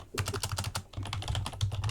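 Rapid computer keyboard typing picked up by a microphone, a close, continuous patter of keystrokes with brief pauses.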